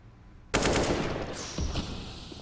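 Sharp automatic AK rifle fire from a CS:GO match on Mirage bursts in abruptly after a quiet lead-in, rattling loudly and close for about two seconds with a second burst surge midway.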